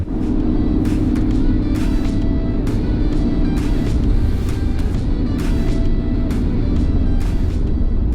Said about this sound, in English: Right now I am driving Interstate 40 going eastbound.